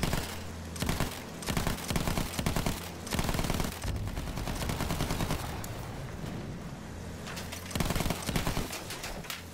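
Battlefield 1 gunfire, repeated bursts of automatic weapon fire and scattered shots cracking in clusters over a noisy battlefield backdrop, loud and sustained with brief lulls between volleys.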